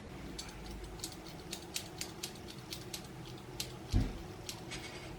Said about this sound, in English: This side is probably 1/2 centimeter longer, so we're gonna keep point cutting